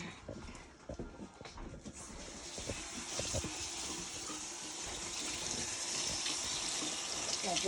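A kitchen tap runs steadily into a sink while something is washed under it, a continuous gushing splash that grows fuller and louder toward the end, with no one talking over it.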